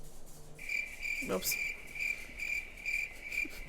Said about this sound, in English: This is also what I love about having that cricket noise.